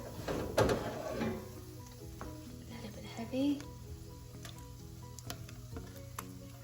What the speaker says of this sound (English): Now we are going to add this to our cabbage that we have sauteed before.